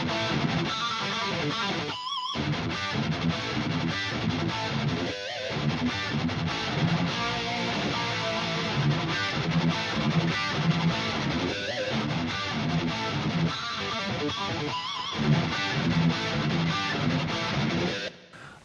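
Distorted electric guitar plays continuously with a widening effect giving a wide, spacious tone and a touch of reverb, dense and loud with a few brief gaps.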